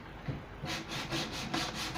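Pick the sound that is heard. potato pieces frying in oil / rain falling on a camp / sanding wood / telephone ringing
sanding wood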